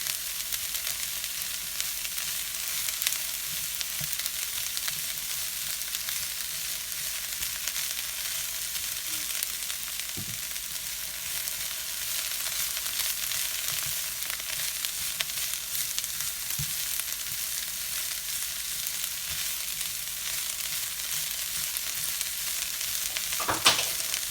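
Greens wilting down in a frying pan for rumbledethumps, stirred now and then, give a steady soft sizzle that runs throughout with occasional light scrapes and taps of the utensil.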